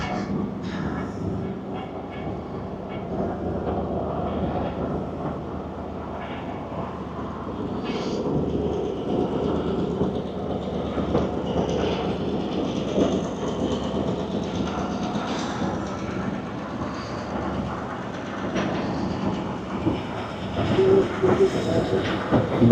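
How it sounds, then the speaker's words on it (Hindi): A passenger train pulling away from a small station in the Thar Desert, a continuous low rumble and rattle of wagons that builds gradually, heard from on board, steady throughout with faint background voices. "वासरबा में 1 मिनट रुकने के बाद ट्रेन चल पड़ी।"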